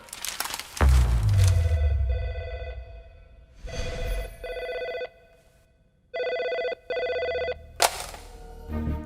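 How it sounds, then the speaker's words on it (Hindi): A telephone rings in a Hindi film crime drama scene, several loud bursts of electronic bell ringing separated by short pauses, close and clear with no talk over it. "दिल्ली से फोन आया।"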